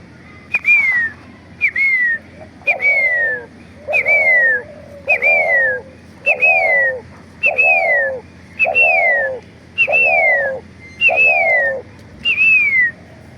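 A decoy hunting dove used for trapping doves calls in about ten regular rounds. Each round starts with a loud, falling whistle that a person blows to imitate the lure call, and the dove answers at once with a low, throaty coo.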